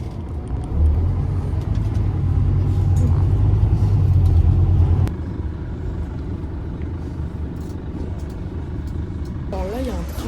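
A line 3 tram rolls past in a city street, a loud low rumble close by that fades after about five seconds, with a voice speaking over the passing.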